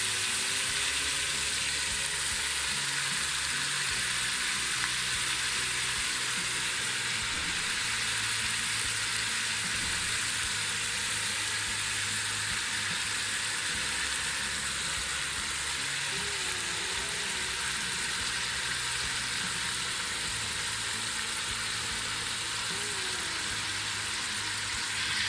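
Kofta balls sizzling in a pan of cooked masala for potato and egg Nargisi kofta, a dense, steady frying hiss close by that runs unbroken throughout, with no voices.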